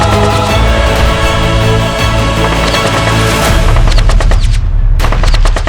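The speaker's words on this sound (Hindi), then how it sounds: "हिल्स गोलियों की तड़तड़ाहट से थर्रा गई।" Rioters open fire amid the Nuh violence, loud rapid bursts of gunshots crackling and overlapping in dense volleys, with a sharp cluster of separate shots near the end.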